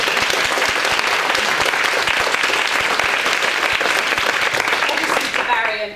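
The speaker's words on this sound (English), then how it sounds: "I think they deserve a round of applause." Audience applause for three witnesses after a mock employment tribunal, a full and even round of clapping that runs loud and steady throughout and then cuts off sharply at the end.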